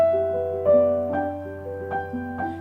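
Piano notes are struck with a stiff, punched, vertical motion, giving a few detached, accented attacks that ring briefly over a low sustained bass note, close and alone.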